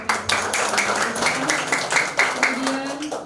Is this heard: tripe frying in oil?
no